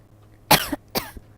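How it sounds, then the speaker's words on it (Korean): Two sharp coughs about half a second apart, close and fairly loud, with a quiet low hum underneath. "아 기침도 좀 허락 받고 좀 해요"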